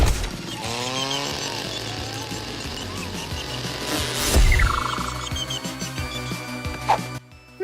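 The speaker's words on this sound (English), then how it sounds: "They're gonna fucking chainsaw her!" A chainsaw in a Star vs. The Forces of Evil cartoon episode, a buzzing motor mixed in with music and sound effects, with a loud burst midway.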